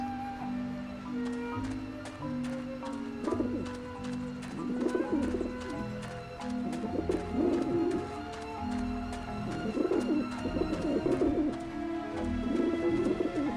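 Pigeons coo repeatedly in a video game, soft throaty calls rising over a continuous layer of game music and background tones.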